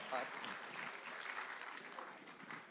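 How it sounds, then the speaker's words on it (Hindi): Applause from an audience at a film trailer launch event, a brief, steady patter of clapping from a crowd, heard fairly faint and somewhat distant for a few seconds. "एक बार जोरदार तालियां विनोद सर के लिए"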